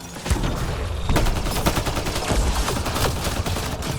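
Gunfire in the video game Mass Effect Andromeda: a rapid, dense burst of automatic shots with sharp repeated cracks, loud and continuous for several seconds.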